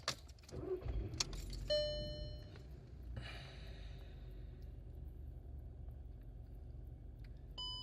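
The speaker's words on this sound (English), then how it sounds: "So I'm going to start the vehicle up, let you see how long it takes to boot up." A Skoda Fabia vRS starting up: keys jangle and a few short dashboard chimes, then a brief crank settles into a steady, low engine idle rumble that continues to the end.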